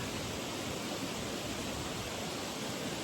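Water pouring steadily at a waterfall with a sandy beach area below, a dense, unbroken rushing roar close by, with no voices over it.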